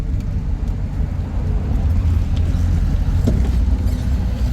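A 1968 Fiat 850 Spider, a small four-speed two-seat roadster, cruising at 35 to 40 mph, giving a steady low engine and road rumble with wind noise and no break.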